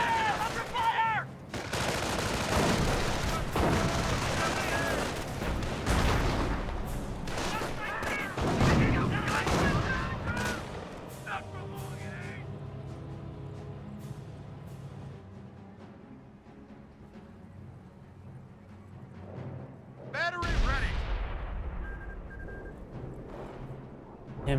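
An artillery barrage and gunfire in a Company of Heroes match boom and rattle densely at first, then thin to scattered distant blasts with one heavy impact late, while a voice commentates throughout.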